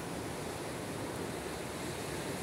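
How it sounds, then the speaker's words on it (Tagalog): Ocean waves at La Jolla Cove in San Diego, California, wash in as a steady, unbroken roar of surf, continuous and fairly even in level with no pauses or voices. "Sige, enjoy sa alon. Ay, ayan alon."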